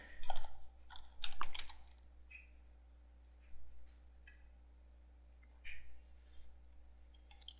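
Someone types a username and password on a computer keyboard to log in to a WordPress admin page, producing a few short bursts of quiet, close key clicks separated by pauses, with no talking.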